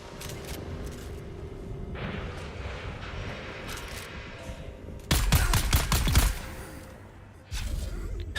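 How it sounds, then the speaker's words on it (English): Grenades going off in the video game Dune, with a burst of loud, booming explosions and crackling blasts midway through and another heavy boom near the end, over a steady layer of game noise. "The hell is exploding? Just grenades."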